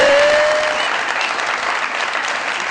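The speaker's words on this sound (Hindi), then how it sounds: "बहुत सारी तालियां" Steady, dense applause from a TV comedy show studio audience, loud at first and easing slightly, continuing without a break and with no talking over it.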